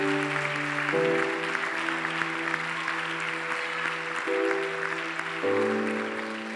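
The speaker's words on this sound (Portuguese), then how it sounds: "Você pode aplaudir Jesus neste lugar?" A church congregation applauds during a worship service, with steady dense clapping that carries through the whole stretch beneath sustained organ or keyboard chords that change pitch a few times.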